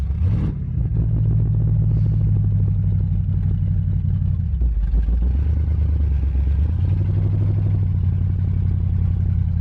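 A hot rod engine, recently rebuilt and fitted with front brakes that hang up, roars loudly and continuously for the whole stretch from close range, with a couple of dips and swells as it revs before settling back into a heavy, rumbling run.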